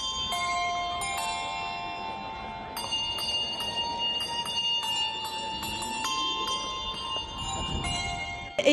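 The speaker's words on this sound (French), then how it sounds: "ils faisaient des chansons de Noël avec des cloches" Handbells play Christmas songs at Disneyland Paris, bright clear tones struck in sequence with lingering overtones, steady and moderately loud with no talking.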